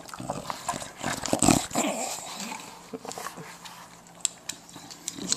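A dog snorts and snuffles while eating, in short wet bursts and sniffs close by, with a few faint whimpering noises between them and no speech.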